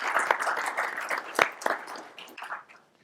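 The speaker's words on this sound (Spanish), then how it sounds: "Un fuerte aplauso," Applause from a conference audience at a private equity and venture capital panel in Mexico, a lively burst of many clapping hands with a few louder claps standing out before it tapers off to silence.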